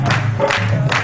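An audience claps together at a nighttime devotional gathering, a dense burst of rhythmic applause with crowd noise, near and loud over the whole moment.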